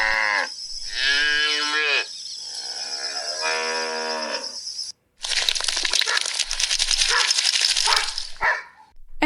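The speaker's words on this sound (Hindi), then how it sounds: "उसके खेत में बहुत सारी बकरियां और बहुत सारी भैंसें घुस गई थी" Goats and buffaloes crowded into a crop field make loud, close bleating and lowing calls, with harmonic moos in the first half and then a dense, noisy stretch of overlapping animal sounds.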